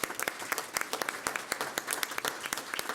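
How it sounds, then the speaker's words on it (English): Modest applause from the audience at a school district governing board meeting, honouring students: individual claps stand out crisply in an irregular rhythm at a fairly quiet level. "So one last round of applause, if we could, for these stellar kids."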